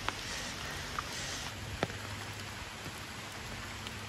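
Steady rain falls over a village in the morning, a soft continuous patter with a few sharper drops hitting nearby surfaces.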